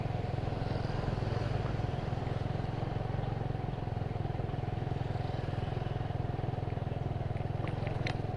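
Motorcycles and cars circle the north town square of Yogyakarta while it is under revitalization, a steady low engine rumble with passing traffic and occasional clatter, no speech.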